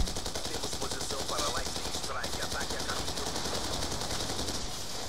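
Dragonfire shotgun in the Black Ops 2 video game fires rapidly in a dense, continuous burst of loud shots lasting several seconds, close and harsh, with faint voices beneath.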